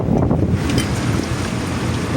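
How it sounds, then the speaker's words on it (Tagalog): Big waves at sea against a boat sailing from Davao to Iloilo, with a continuous rushing wash of water and heavy wind buffeting close to the microphone. "Malaki yung alon."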